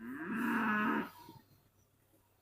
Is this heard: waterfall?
no